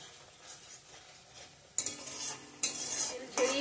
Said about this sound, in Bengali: জিরার গুঁড়া, ধনিয়ার গুঁড়া দিয়ে দিলাম, লঙ্কার গুঁড়া। ভালো করে কষিয়ে নিচ্ছি।